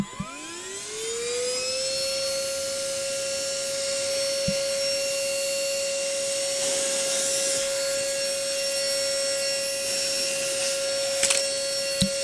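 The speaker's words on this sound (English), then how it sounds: "Where is my vacuum? Oh, here it is." A vacuum cleaner switches on and runs steadily for about twelve seconds, its motor whine rising as it spins up and then holding a loud, constant tone with brief bumps and clatters.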